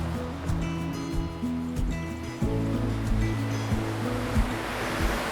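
Mingo Falls, a waterfall in the Smoky Mountains of Tennessee, roars as a steady broad rush of falling water, with faint rustling and light knocks nearby.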